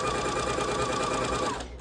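A sewing machine stitches fabric for a hair scrunchie in one short continuous run, a close steady whir of needle and motor that cuts off at the end.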